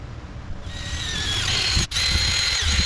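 A soft wire wheel spins on a power tool, cleaning exhaust tubing for welding on a 1966 Ford F100 prerunner. A steady, close, high whining grind runs throughout, with one brief dip near the end.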